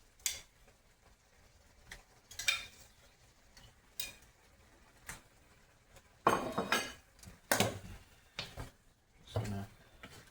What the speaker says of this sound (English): our last step is going to be to add our pork slices back in